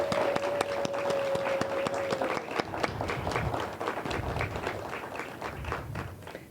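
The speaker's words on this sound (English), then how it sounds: "Would you please help me and give them all a round of applause?" An audience claps at a grand opening, a dense, steady round of applause that holds for several seconds and slowly thins toward the end.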